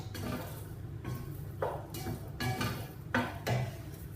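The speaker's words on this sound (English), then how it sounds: "So just going to stir all this up." A spoon stirs sausage casserole in a cooking pot, giving soft scrapes and several light clinks against the metal sides, heard close and quiet with no talking.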